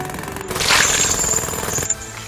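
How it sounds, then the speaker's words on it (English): Jackhammer sound effect from the Bowmasters video game, a brief rattling burst of harsh mechanical hammering lasting under two seconds, loud and alone. "A jackhammer."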